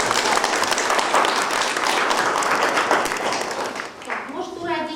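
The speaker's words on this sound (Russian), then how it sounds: "Давайте еще один раз похлопаем." An audience applauds at a fourth-grade school graduation in 2011, with dense, sustained clapping filling the room for about four seconds before a voice speaks as the clapping fades.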